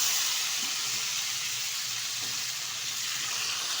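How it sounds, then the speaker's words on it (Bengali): Pieces of bhetki fish cut from a large fish fry in hot oil, a steady close broadband hiss with faint crackle running throughout, no voices. "এখন সুন্দরভাবে মাছগুলো তেলের মধ্যে ছেড়ে ভেজে নেব"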